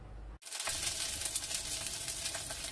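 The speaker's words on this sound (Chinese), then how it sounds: "咁我哋搵少少油爆一爆香佢先" Shallots, onion and garlic hit hot oil in a pan and break into a loud, steady sizzle right after a short quiet gap, continuing close and uninterrupted.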